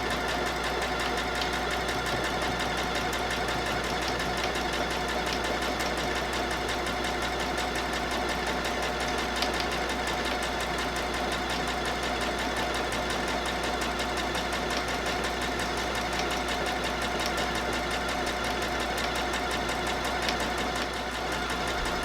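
A sewing machine stitching a towel bag with a straight stitch, a continuous fast, even mechanical whirr and rattle, close and steady throughout with no talk.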